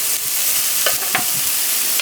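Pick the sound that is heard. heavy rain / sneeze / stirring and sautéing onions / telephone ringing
stirring and sautéing onions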